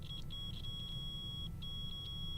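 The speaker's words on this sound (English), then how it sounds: "since there's continuity between these points, it's going to beep" A multimeter sounds its continuity beep as its probes touch points on a pinball machine board's bridge rectifier, giving a steady high tone broken by short gaps and stutters over a constant low rumble, with no talking.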